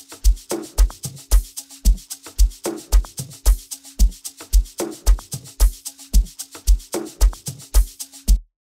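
An amapiano drum loop layered with a deep kick drum, a steady groove of punchy low kicks and crisp percussive hits repeating evenly throughout, loud and close with no talking.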